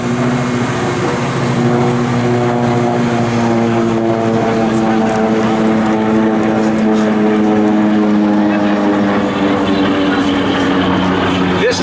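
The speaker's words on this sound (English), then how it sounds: "Diving in from the left, once again, we've got the SB2C Helldiver." A World War II SB2C Helldiver propeller dive bomber dives past at an air show open house, its loud, steady piston-engine drone filling the whole stretch with a gradually shifting pitch, while a commentator talks over it.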